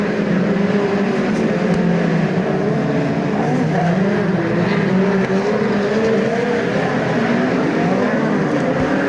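Midget race cars at speed around Ruapuna Park during the New Zealand Midget Championship, a loud continuous engine roar with shifting drone as the pack runs close, unbroken for the whole stretch and no voices heard.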